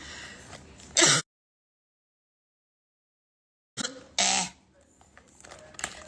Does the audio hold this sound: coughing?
yes